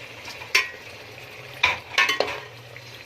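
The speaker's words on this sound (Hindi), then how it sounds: "इसको 5 मिनट के लिए भूनना है टमाटर" Tomatoes fry in spiced masala for aloo gobi, with a low sizzle underneath and several sharp spoon scrapes and clinks against the pot as they are stirred, close by and with no voices.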